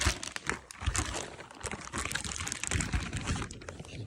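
A plastic packaging bag crinkles and rustles continuously as a carbon fiber car part is unpacked, with dense, close crackling that swells and dips over a few seconds.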